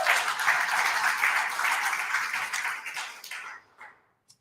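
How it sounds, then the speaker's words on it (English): A congregation at a spiritual living center claps for the music, a close, steady patter of hands that thins out and fades to silence near the end. "So let's give them a big round of applause."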